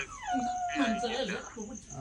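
A dog whimpering and yelping in thin, high, wavering cries, fairly close, with a low voice murmuring underneath.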